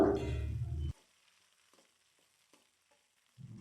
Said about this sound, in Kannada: ಟೊಮೆಟೊ ಸ್ವಲ್ಪ ಹಾಕ್ಕೊಂಡು ಫ್ರೈ ಮಾಡ್ಕೋಬೇಕಾಗುತ್ತೆ